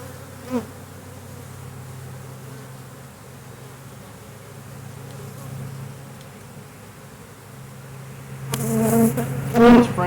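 Honey bees buzzing around an open, packed hive during swarm control work, a steady dense hum close by with a louder burst of nearby buzzing near the end, no talk.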